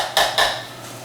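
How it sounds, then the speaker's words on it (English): A spatula scrapes twice inside a blender container, pushing basil pesto ingredients back down, with two short, close scratchy strokes and then quiet. "we're gonna scrape the container here a little bit. Get all the ingredients down in there."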